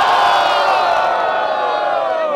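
Loud crowd at a rap battle semifinal in Guarulhos, São Paulo, roaring and cheering in a dense sustained wall of shouts and whoops that holds steady throughout, with no single voice standing out.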